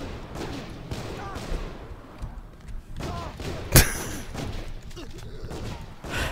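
A single sharp handgun shot in a video game rings out once, loud and abrupt, amid ongoing game noise and background chatter.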